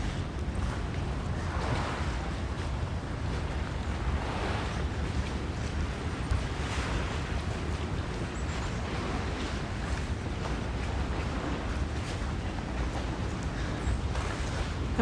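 A passing boat on the water near South Ferry in New York, heard as faint low rumbling wash mixed with wind noise and water, steady and distant throughout.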